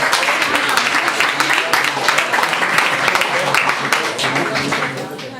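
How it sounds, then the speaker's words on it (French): Applause from the audience at a talk on the French language: lively clapping from a moderate crowd, close and loud, with individual claps standing out, fading slightly at the end. "Donc une bonne main d'applaudissement, s'il vous plaît."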